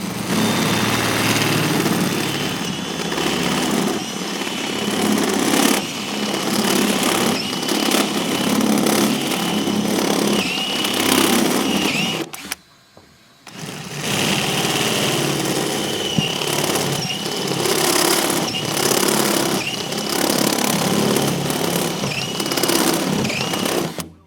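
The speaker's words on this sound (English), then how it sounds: "Drilling them out to 5/8." A power drill bores holes out to 5/8 inch in a Dodge Charger patrol car's bumper for light mounting, giving a continuous loud motor whine that stops briefly midway and then resumes.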